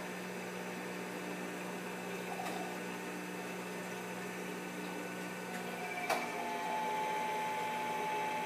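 A Norwalk 280 juicer runs at full power with a steady, even mechanical hum, close and continuous, and brief faint clicks are heard over it.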